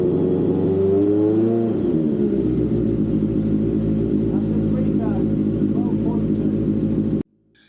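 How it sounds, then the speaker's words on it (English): A Honda CB750 motorcycle engine held at about 3000 RPM during a charging-system check, a loud close steady mechanical rumble and whir after a brief rise in revs, then cutting off abruptly near the end. "When we rev up to 3000 RPM, the charging system should really get into its stride"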